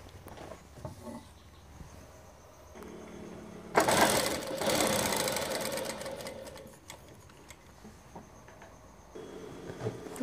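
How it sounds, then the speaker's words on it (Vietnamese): A sewing machine runs a basting stitch along the fabric of a trouser slant pocket, a steady close mechanical whir in a few seconds of stitching between quieter fabric handling. "Chúng ta sẽ may lượt như thế này này."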